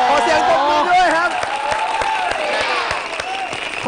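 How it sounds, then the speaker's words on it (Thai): An audience at a concert applauds with steady, dense clapping throughout, while an amplified voice and cheers rise over the clapping. "ขอเสียงปรบมือด้วยครับ"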